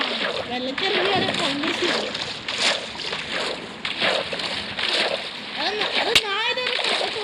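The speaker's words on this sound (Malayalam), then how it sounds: "ഞാൻ വെള്ളത്തിലിറങ്ങി." Water splashing in the Minecraft video game as a player character wades in, sloshing bursts running through the whole stretch under constant excited talk.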